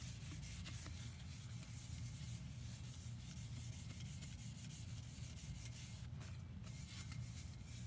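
A small piece of paper towel wipes sanding residue off a cup, making a continuous soft rubbing and scuffing sound close by at a steady moderate level, with no talking.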